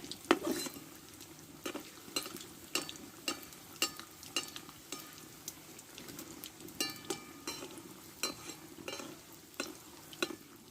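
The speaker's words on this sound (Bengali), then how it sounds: "একটু ধীরে ধীরে ভাজতে হবে টাইম নিয়ে" Potato snacks frying slowly in hot oil in a pan, a continuous sizzle broken by regular clinks and scrapes of a spatula stirring, close and steady with no talk.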